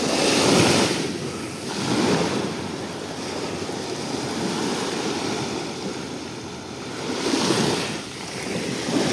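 Sea waves breaking on a beach near Side Colakli, Turkey, with surges rising and falling every few seconds over a constant wash of surf and some wind noise.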